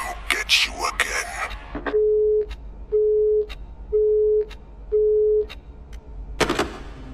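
Phone busy signal in the video game Luto, sounding as four evenly spaced steady beeps that fall silent between each one. Brief clatter comes before and after the beeps.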